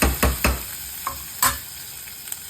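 Onions fry in a pan for Sindhi pakoda kadhi, a close sizzle broken by several sharp scraping stirs of the spoon, loud at first and then settling over a couple of seconds.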